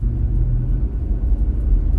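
A Toyota Land Cruiser 100 Series drives with a steady low engine rumble and road noise, a close, constant drone heard from inside the vehicle, with no voices.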